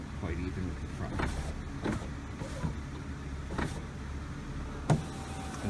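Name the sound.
power window motor moving window in Mercedes W163 ML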